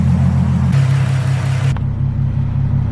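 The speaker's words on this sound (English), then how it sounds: "So it looks like the car is definitely warming up." A Ford Mustang engine idles and warms up with a steady low rumble, a brief higher hiss layered over it partway through before settling back to the even idle.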